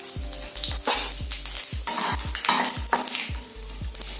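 Panch phoron seeds sizzle and splatter in hot oil while a utensil stirs the pan, giving repeated metallic scraping strokes over a steady close frying crackle.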